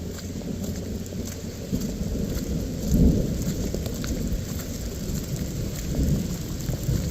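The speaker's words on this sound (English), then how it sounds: "I don't think the rain's gonna stop, not what the radar says" Steady heavy rain pours down outdoors on a disc golf course, with a low roll of thunder swelling around the middle and another faint rumble later; no voices.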